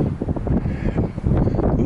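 Wind gusts outdoors in a spring park, a rough, buffeting rush close to the microphone for a couple of seconds.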